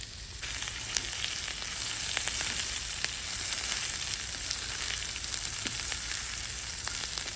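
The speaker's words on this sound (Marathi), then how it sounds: "दोन ते तीन मिनटं आपण अजून मसाले असेच परतून घेऊ" Spices with cooked coriander and curry leaves roast in a pan for Maharashtrian black sukha chicken, a dense, even sizzle with faint crackles and occasional light stirring taps, close by and without voices.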